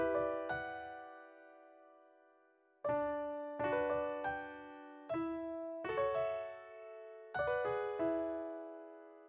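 Strummed piano chords from the Flex plugin, half-timed at 160 BPM, ring out in about six separate strikes, each chord rolling in quickly and then fading away.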